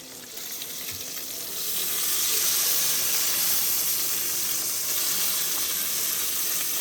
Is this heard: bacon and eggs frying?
yes